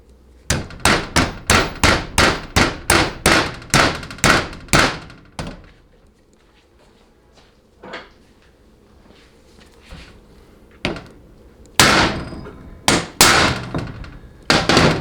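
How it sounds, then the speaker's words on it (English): A bushing driver hammered to seat a bushing in a Chrysler A904 automatic transmission: a rapid run of about a dozen sharp, loud metallic strikes, a pause with a few isolated hits, then another cluster of heavy blows, close up with no talk. "use a bushing driver of appropriate size to get it going"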